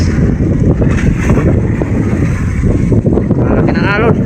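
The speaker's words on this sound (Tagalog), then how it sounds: "Grabe lakas ng hangin" Loud, buffeting wind roars against the microphone, a constant low rumble with gusty fluctuations, out on open water with big waves.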